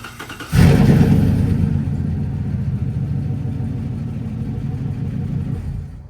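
A 2015 GMC Sierra pickup with failing AFM lifters fires up with a loud sudden catch, then settles into a steady, rough, uneven idle that stays loud and close throughout.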